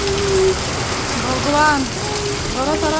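Heavy rain pours steadily in Bhubaneswar, a dense constant hiss close by, with people talking over it throughout.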